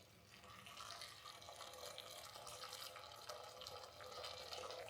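Steady trickling and splashing of 400 ml of boiling water being poured into a container, a continuous liquid rush at moderate level with no talking.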